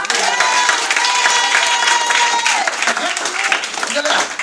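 A church congregation claps together in a sustained burst of applause, loud and dense for several seconds, with voices mixed into the crowd noise.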